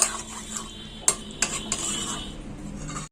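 A utensil stirs masala into chicken in a pot, producing scraping and sharp metallic clinks at irregular intervals over a faint low sizzle, close and fairly loud.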